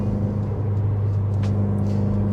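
A 2020 Subaru WRX cruises in third gear at around 45 mph, its engine giving a steady, loud droning hum with strong low tones and constant road rumble.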